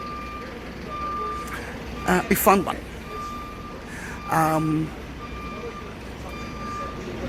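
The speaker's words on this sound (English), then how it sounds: "You can hear the bus station." A truck or bus reverses near a bus station in Jerusalem beside the Garden Tomb, its beeps chirping in two short bursts amid road hum while someone talks briefly over the traffic.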